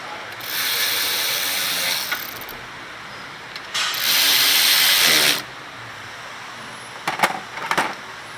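Bursts of ratcheting from a hand ratchet tightening bolts on the rear brakes of a Toyota Camry, two longer runs of rapid clicks followed by a few short final clicks, close and alone.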